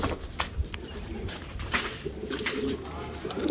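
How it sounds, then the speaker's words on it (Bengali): Racing pigeons return to their loft after a 30 km training toss, giving soft cooing and fluttering calls close by over a faint background murmur, with no clear speech. "কবুতর আসছে কয়টা আমার দেখি।"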